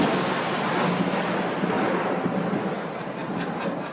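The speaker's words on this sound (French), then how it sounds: "Le moment le plus dangereux est celui où le tonnerre suit immédiatement l'éclair" Thunder follows straight after a close lightning strike: a loud, dense, continuous roar and rumble that slowly fades over several seconds, with no voices.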